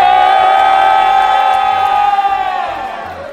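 A large crowd of anime fans cheers loudly in unison, one sustained roaring yell that fades toward the end, close and alone.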